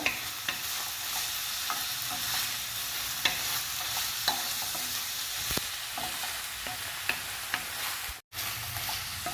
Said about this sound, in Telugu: అల్లం వెల్లుల్లి పేస్ట్ని 2-3 నిమిషాలు వేయించుకోవాలి